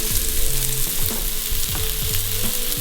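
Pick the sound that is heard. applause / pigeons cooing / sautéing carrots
sautéing carrots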